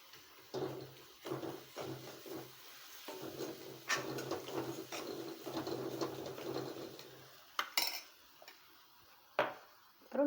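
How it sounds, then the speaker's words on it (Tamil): A spoon scrapes and knocks against a pan while tomatoes are stirred and mashed with masala in oil, with irregular clattering strokes over a soft background sizzle and a few sharper clanks near the end. "தக்காளியை நல்லா மசிச்சு விட்டுக்கோங்க."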